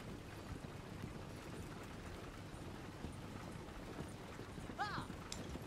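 Horse hooves clip-clop in Red Dead Redemption 2, a steady soft patter of steps beneath ambient rain-like noise, with a brief bright chirp near the end; no speech.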